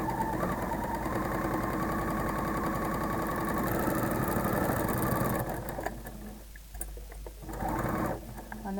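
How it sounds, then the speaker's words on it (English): Overlocker stitching a jersey cuff: a fast, steady mechanical whirring hum that runs for several seconds, slows and pauses briefly, then starts up again for a short burst. "You generally don't use pins when you're using the overlocker because you don't want to damage the blade"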